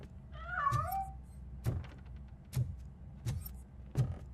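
A cat meows once, clear and close, in the video game Robocop Rogue City, followed by a few soft thuds spaced through an otherwise quiet scene.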